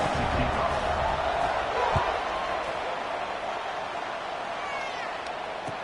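A football stadium crowd at a scrimmage buzzes just after a touchdown, a broad steady roar filling the background at moderate distance, with a bump or two of impact sound and some voice faintly mixed in.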